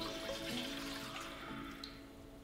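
Water pours into a heavy-bottomed cooking pot in a Kerala kitchen, a faint, steady rushing splash that runs the whole time and eases off slightly toward the end, with no voices.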